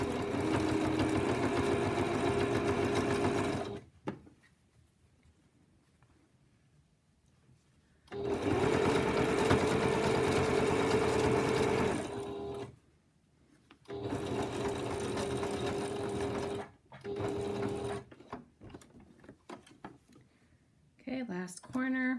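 A sewing machine stitches binding onto a potholder in several loud, steady runs of rapid mechanical whirring, broken by quiet pauses while a person talks about folding the fabric.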